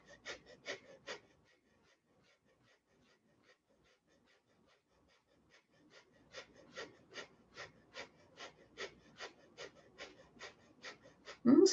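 Fast rhythmic breathing during a breathing exercise, first a few quick breaths, then a long near-silent gap, then a steady run of quick evenly spaced puffs that builds in loudness, heard alone without talk.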